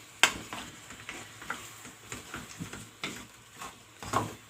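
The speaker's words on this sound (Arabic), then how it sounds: "نبدأ بقى نقلب البصل، نقلبها في البصل بتاعنا بالشكل ده كده مع البصل" Onions stirred and sautéed in a pan for an Egyptian oven-baked tagine, with a quiet sizzle under repeated scraping and clinking of a utensil against the pan.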